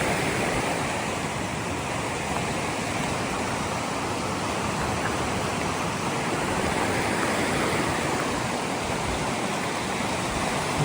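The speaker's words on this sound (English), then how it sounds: "Got a good little stream here." A small mountain stream in Spearfish Canyon rushes steadily over rocks, a dense, continuous wash of water close by with no pauses and no voices.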